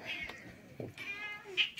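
A cat meows a few times in short calls, close by and fairly quiet, with a little soft background noise between them.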